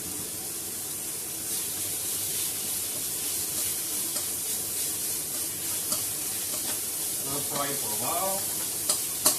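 Minced meat fries in oil for mapo tofu, a steady loud sizzle and hiss close by, with stirring scrapes and a few clacks toward the end; a voice speaks briefly over the cooking.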